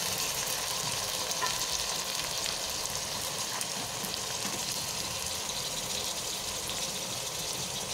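Tomatoes sizzle as they hit hot spices and onions frying in a pan for aloo gobi, making a loud, steady, close crackling hiss that does not let up, with no talking.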